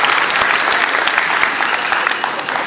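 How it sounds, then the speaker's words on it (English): Sustained audience applause for a young honor guard at a tribal State of the Band gathering, dense steady clapping from a large crowd filling the room. "Let's give our proud people a big round of applause"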